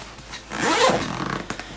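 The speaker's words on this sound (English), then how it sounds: "it is a clamshell opening bag by this huge number 10 YKK zipper" A large number 10 YKK zipper is drawn open around a clamshell-opening GORUCK Radio Ruck bag, one continuous rasping pull that swells in the middle, followed by a few small clicks.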